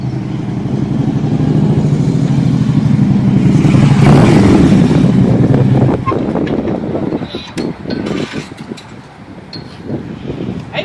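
Motorcycle with aftermarket CFR exhaust pipes revving, a loud sustained engine roar that drops off midway into rougher, uneven bursts, with wind noise throughout.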